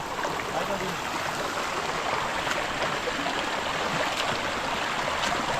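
A river at night rushes and hisses in a steady, unbroken wash of flowing water, close and fairly loud, with no voices over it.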